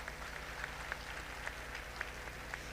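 An audience applauds at an international green hydrogen conference in India, a faint, distant wash of clapping over a low steady hum, with a few louder claps standing out.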